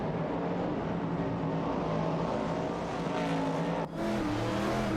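Race cars such as an Opel Commodore and a Holden Torana A9X in an AI racing video game roar on continuously, engine drone rising and falling as they jostle for position, with one brief dip near the end.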